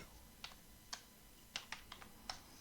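Keys on a computer keyboard are tapped in a quiet, irregular run of about ten clicks as a staff member's name is typed, with no other sound around them.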